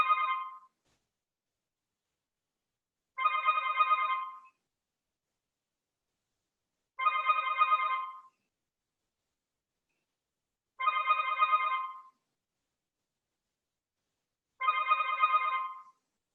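A mobile phone rings during a yoga class, five evenly spaced bursts of electronic trilling, each about a second long, separated by about three seconds of silence.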